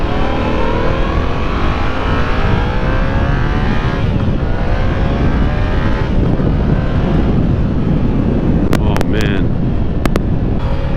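A 2017 Yamaha FZ-07 motorcycle engine hums under riding, steady and loud beneath heavy wind rush, with its pitch sweeping through gear changes and a few sharp knocks near the end.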